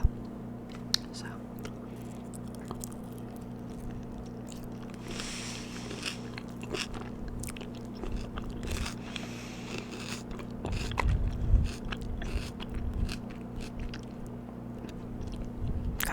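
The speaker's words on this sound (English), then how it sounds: "Got some crunchy lettuce up in there." Close, quiet chewing of Chipotle food with crunchy lettuce, soft bites and crunches scattered through a long stretch, with a louder burst of crunching partway through and faint whispered talk at times.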